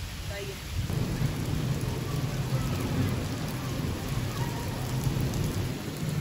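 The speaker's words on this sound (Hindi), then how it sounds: "बहुत तेज़ बारिश हो रही है" Heavy stormy rain pours down in a steady, loud roar, with low thunder rumbling underneath throughout; no voices.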